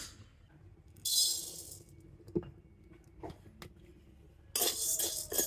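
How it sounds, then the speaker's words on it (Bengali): Dry sago pearls tumble into an empty wok in two short rattling pours, a soft pattering hiss, separated by a few quiet clinks of a spoon against the metal. "তো খালি কড়াতে আমি সাবুদানাটা দিয়ে দেবো"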